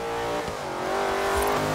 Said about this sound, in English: That's an electric car. That's, that's running on batteries.